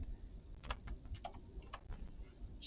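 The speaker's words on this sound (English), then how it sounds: "So we'll just type it the way we see it." Quiet typing on a computer keyboard, a handful of soft scattered key clicks over a low background hum.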